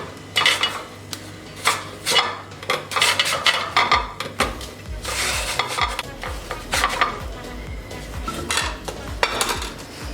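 Raw potatoes sliced with a knife for aloo pakora, giving clustered, uneven knocks of the blade on a board along with scraping and clattering of kitchen utensils, close and fairly loud with no talk.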